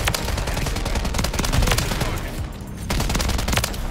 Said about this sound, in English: If you guys are curious of what LMG I'm using, I believe this is the TAC Evolver